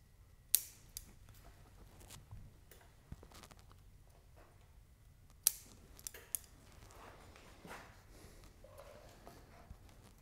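Shears snip back shoots on a boxwood (Buxus) bonsai grown from nursery stock, giving a few sharp, close clicks spread out over quiet background rustle.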